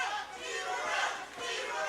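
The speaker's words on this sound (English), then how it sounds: "We got the crowd chanting Tiburon" A boxing crowd in El Monte chants for a hometown favorite, a loud rhythmic group shout that swells and dips in waves over a couple of seconds.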